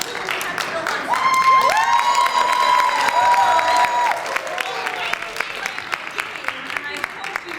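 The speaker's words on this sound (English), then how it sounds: "Let's have a cheer for the ladies who have built on that." A studio audience at a game show cheers for the ladies, loud clapping with whoops and high shrieks through the first half, then thinning to scattered, crisp claps.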